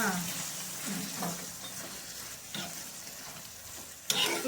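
Chops frying in a pan are stirred and turned, giving a quiet, steady sizzle broken by soft scrapes and a sharper clink near the end, heard close with no talking.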